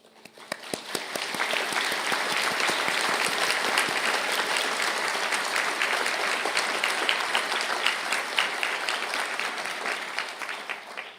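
Sustained applause from a large audience at a university conferring ceremony in Galway, greeting computing and digital media graduates as they stand; dense, steady clapping that builds quickly and holds for about ten seconds.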